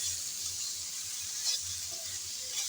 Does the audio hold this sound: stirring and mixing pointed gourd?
yes